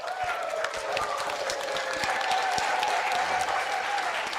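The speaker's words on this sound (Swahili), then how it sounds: "Graduates, please stand up while we give you a round of applause." Graduates at a graduation ceremony receive a sustained round of applause from the audience, dense steady clapping throughout.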